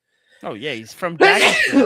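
A sharp, loud sneeze bursts out near the end, following a few moments of someone talking.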